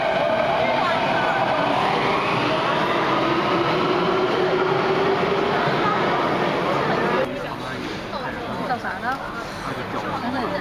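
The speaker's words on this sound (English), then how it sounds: "Here's Ben watching the train we just missed." A train pulls away from a station platform in China, a steady loud rumble and rolling clatter that drops off abruptly partway through, leaving quieter ambient noise.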